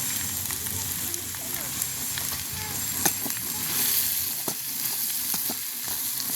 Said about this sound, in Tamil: அப்படியே நல்ல வடிவாக கிண்டுவோம் இதை நல்ல வடிவாக இந்த அகப்பையாலே நாங்கள் அப்படியே மசிப்போம்